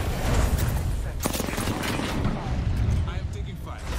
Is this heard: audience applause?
no